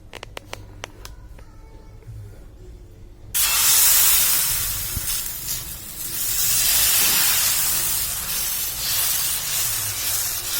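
Thin jowar flour dhirde batter poured onto a hot, oiled griddle bursts into a loud, steady sizzle after a few quiet clicks, hissing strongly and swelling again as it spreads and cooks.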